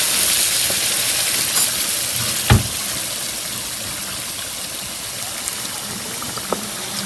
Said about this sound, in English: Adding hot water to the rice. You can hear that sizzle.